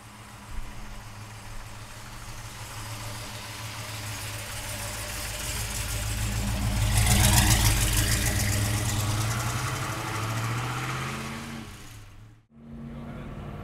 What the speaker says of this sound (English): let's take a 66 black Chevelle for a ride